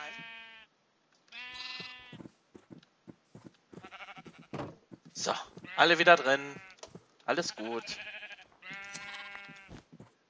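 Baby sheep in the video game Minecraft bleat in short, pitched calls, several in a row at close range, interleaved with someone talking.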